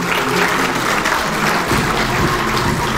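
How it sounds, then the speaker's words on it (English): Steady, dense applause from a sizeable crowd at a hackathon closing ceremony, loud and continuous throughout with no break or talking over it. "A big round of applause to all the student coordinators"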